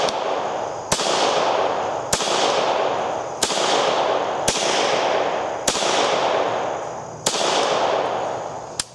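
Beretta 84 pistol firing a string of about eight sharp, loud shots at a steady pace, each crack followed by a long reverberant decay, the first shot fired double action.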